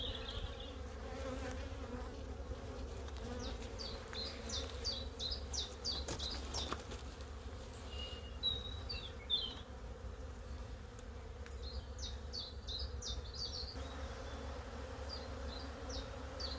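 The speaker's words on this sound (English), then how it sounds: "Bee's getting a little bit agitated there." Agitated honeybees around a beekeeper in a protective suit at an open hive, a steady low buzzing hum close by, faint throughout, with birds chirping in the background.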